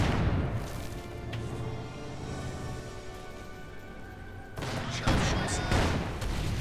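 Company of Heroes 2 battle sounds carry muffled mortar booms and bursts of gunfire over a dense, rumbling mix, with sharper impacts toward the end.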